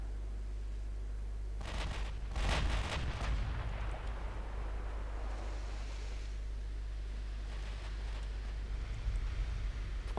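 Battleship guns fire in the naval warfare game Ultimate Admiral Dreadnoughts, a cluster of deep booming salvos rolling out over a constant low sea and engine rumble, followed by fainter distant reports, with no talk.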